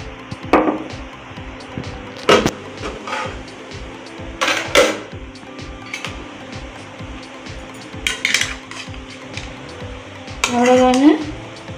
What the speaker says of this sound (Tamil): இப்போ அடுப்பை ஆஃப் பண்ணிவிட்டு ஓப்பன் பண்ணி பார்த்துருவோம்.